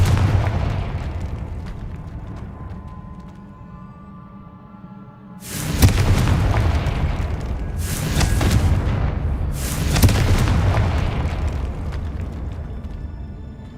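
Confringo fire spell blasts in Hogwarts Legacy, three loud booming explosions a couple of seconds apart, each with a sharp onset and rumbling decay over a low game background.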